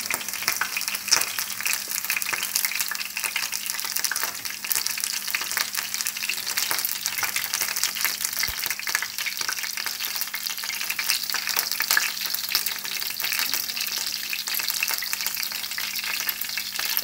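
Cheese-filled meatballs in a potato bowl frying in oil make a dense, even sizzle that crackles steadily and holds close and constant throughout with no speech.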